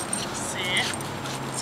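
Pet dogs whimpering in short, high, thin whines, fairly close, over steady household background noise.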